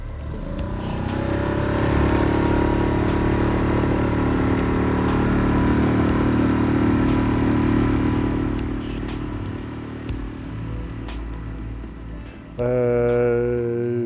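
A boat's outboard motor idles in a bay at nightfall, a steady low rumble with faint clattering that holds for most of the span, dips briefly, then swells again near the end.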